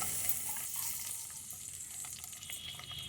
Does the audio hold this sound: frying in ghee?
yes